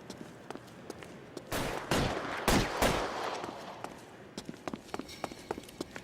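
Gunfire in the L.A. Noire video game during a shootout clearing a building's top floor: a few loud, broadband bursts in the middle, with scattered sharp cracks and footstep-like taps before and after.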